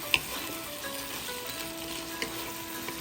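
Vegetables for lumpiang sariwa being stirred in a sizzling pan, a steady fry with a few light scraping knocks, close and alone.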